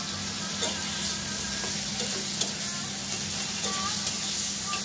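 Spice paste of cumin, coriander, turmeric, ginger and chili frying in a little oil, with a steady close sizzle and occasional faint stirring scrapes throughout.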